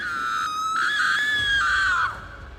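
A woman in a horror story screams loudly, one sustained piercing shriek lasting about two seconds that rises and then trails off, standing alone without speech.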